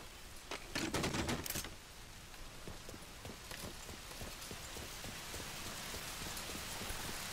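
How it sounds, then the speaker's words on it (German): Rain falls steadily in the video game Mafia III, a soft dense patter on surfaces that stays faint and even throughout, with a few sharp clicks and taps near the start. "regnet sich hier rein gerade."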